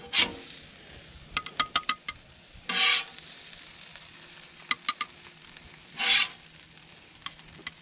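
Blackened catfish cooking on a Blackstone griddle, a low steady sizzle under repeated sharp metal spatula taps and two louder bursts of scraping, close by with no talking.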